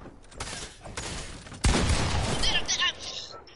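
Video game gunfire erupts as a dense burst of shots and booms, loud and close, with players talking over the action.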